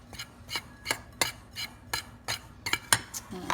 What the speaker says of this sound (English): you'll just stir that together, get that cocoa powder all mixed in with the flour